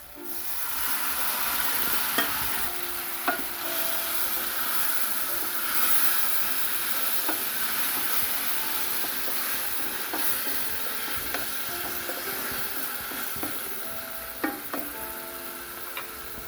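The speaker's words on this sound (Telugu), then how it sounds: "ఇప్పుడు ఈ కట్ చేసుకున్న కూర ఇందులో వేసేద్దాం" Chopped fenugreek leaves fry in a pan with a steady broadband sizzle and hiss, broken by a few light stirring clicks, close and continuous with no talking.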